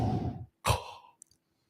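A voice mimics a sleep breathing machine with a long whooshing exhale, a short pause and then a second forceful puff that fades out. A couple of faint clicks follow in near silence.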